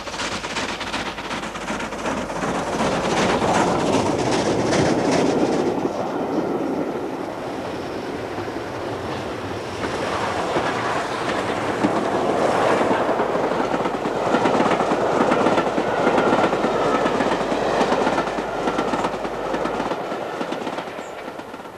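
A steam train runs on the Settle and Carlisle railway line, loud and close, with a continuous roar of motion and rhythmic wheel clatter over the rails that holds steady throughout.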